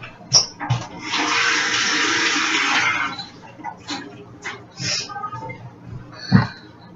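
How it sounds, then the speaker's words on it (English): Water runs from a tap in a steady splashing stream for a few seconds as a peeled potato is rinsed, followed by brief clatters and short bursts of rinsing. "potato peeled, and rinse it off."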